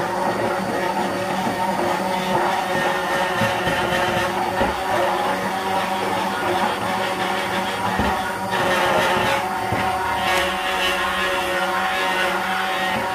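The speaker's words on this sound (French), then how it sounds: "Donc je vais mettre un coup de mixeur quand même." A hand blender whirs steadily through cold-process soap paste, a continuous loud motor drone that holds for the whole stretch with slight shifts in pitch and texture as the paste thickens.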